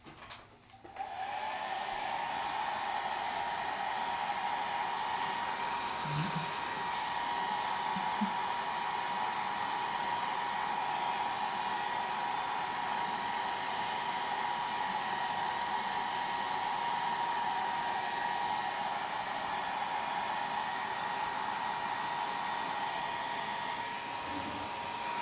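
A hair dryer drying a watercolor painting of a Peruvian tiger lily switches on and runs as a loud, steady, continuous whir for about 25 seconds, close by and alone without talk.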